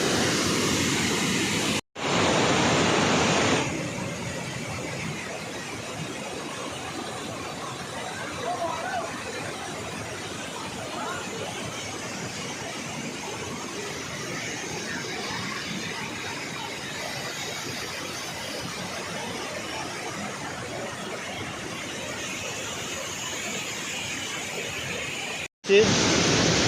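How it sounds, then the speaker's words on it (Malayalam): Continuous roar of Valara waterfall in Kerala, a steady broad rush of falling water with faint voices mixed in. "വെള്ളച്ചാട്ടം"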